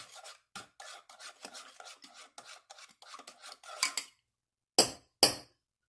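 A spoon stirring sugar into a mug of coffee, rapid scraping and rubbing strokes repeated in a steady rhythm, close and quiet, ending with two sharp taps on the rim.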